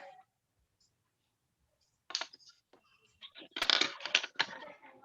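Keys on a computer keyboard clatter in quick, uneven bursts of sharp clicks after a near-silent pause, the typing close and fairly loud, with no voices.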